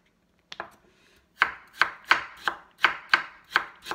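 Carrots chopped on a cutting board with a knife, two light taps and then a steady series of about eight crisp, evenly spaced chops, close and clear with no voices.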